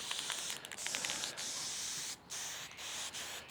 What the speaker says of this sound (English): let's do a quick bloody job of just spraying this